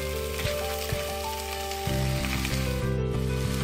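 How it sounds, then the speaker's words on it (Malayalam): Chicken pieces hit a pan of roasted coriander powder for a coriander chicken roast, giving a loud, steady sizzle and crackle of frying that jumps in intensity partway through as the meat goes in, with no talking. "ഈ സമയത്ത് ഞാൻ ഇതിലേക്ക് നമ്മളെടുത്ത് വെച്ചിരിക്കുന്ന ചിക്കൻ പീസസ് ചേർത്ത് കൊടുക്കുകയാണ്."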